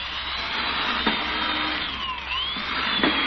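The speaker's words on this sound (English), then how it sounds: "Look how it drill holes through this board." An electric drill bores through a board in a 1950s radio-style scene, a steady loud whirring whine with a faint rising and falling pitch and a couple of brief clicks, no voices.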